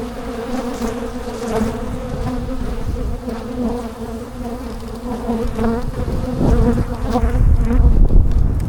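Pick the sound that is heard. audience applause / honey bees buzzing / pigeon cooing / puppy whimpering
honey bees buzzing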